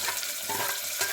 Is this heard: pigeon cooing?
no